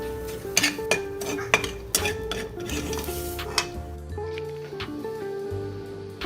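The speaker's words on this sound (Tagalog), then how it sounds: "Ilagay lang ito sa mainit na pan at halu-haluin hanggang sa medyo magkulay brown siya." Tinapa or canned tuna flakes stirred in a hot pan for pancit palabok, with repeated sharp scraping and clinking of a utensil against the pan over a steady low sizzle, close and fairly loud, with no talking.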